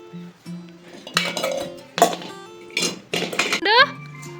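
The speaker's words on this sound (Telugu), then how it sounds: "మా పెద్దోడు ఒక్కొక్క గిన్నె మోసుకొచ్చి మంచం మీద పెడుతుండు." A young boy carries cooking pots one at a time and sets them down on a cot, giving several distinct clinks and clanks of metal vessels spaced across a few seconds, close by, with a voice faintly present.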